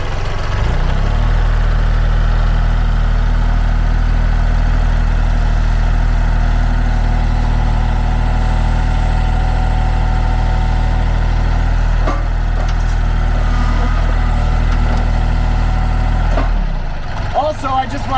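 A compact tractor fitted with rotating pallet forks and new lift and curl cylinders idles with a steady, loud, low engine rumble that holds for about seventeen seconds before cutting off near the end.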